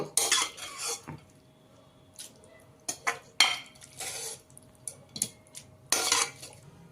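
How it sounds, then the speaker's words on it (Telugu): Ingredients for a homemade coriander chutney for idli, vada and dosa tipped into a mixer grinder jar, with irregular metallic clinks, scrapes and spoon taps in separate bursts and quiet gaps between them. "ఇదంతా మిక్సీలో వేసుకుంటున్నాను"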